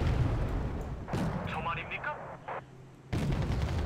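Artillery fire in the video game Wargame: Red Dragon, set in a Korean War scenario: dull broadband booms open and close the stretch, with a brief whistling in between, all under a steady rumbling battle bed.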